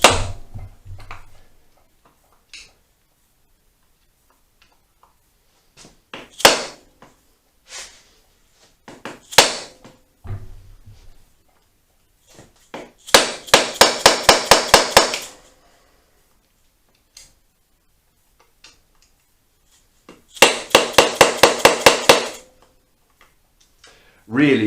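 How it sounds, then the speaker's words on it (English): A homemade improvised impact driver screwdriver struck with a hammer: scattered sharp single knocks, then two dense rapid rattling bursts of blows, close and loud with quiet gaps between. "And there we go, one improvised homemade impact driver."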